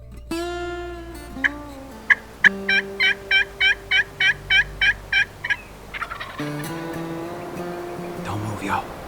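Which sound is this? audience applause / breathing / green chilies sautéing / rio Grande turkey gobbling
rio Grande turkey gobbling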